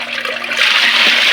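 Water pours steadily into a backyard mud crab tank, a continuous rushing splash that swells louder midway and stays close and alone.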